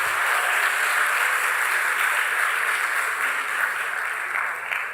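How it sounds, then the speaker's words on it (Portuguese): Church congregation applauding during a sermon at a missions conference, a dense, steady wash of clapping that holds at full strength for the whole stretch without a break. "aplauda Jesus"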